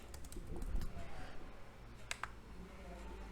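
Fingers tapping random keys on a computer keyboard, a quick scatter of soft clicks up close over a low room hum, with a couple of sharper key strikes later on.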